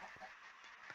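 Minecraft modpack chickens cluck quietly in a brief burst, three soft calls spaced apart against a steady hiss.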